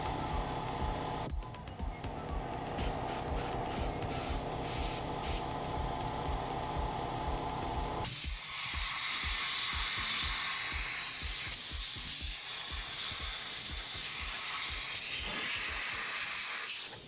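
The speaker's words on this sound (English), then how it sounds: "Then finish up with some compressed air and carb cleaner." Compressed air blasts and carb cleaner hisses over Espar D2 diesel heater parts, a loud continuous spray with rapid pulsing stutters, then a shift to a rougher, breathier hiss, close and without talk.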